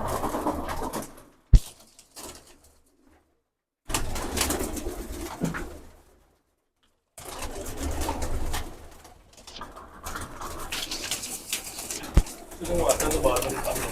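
Pigeons in a loft, including Ferozpuri pigeons, giving soft throaty coos in intermittent bursts separated by brief silences, with light rustling and flutter nearby and no talking.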